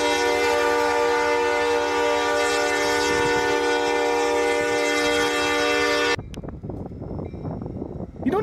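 A locomotive rolling through an ordinary-looking street, its horn blaring loud and sustained for several seconds, then cutting off to leave rumbling wheels and clatter close by.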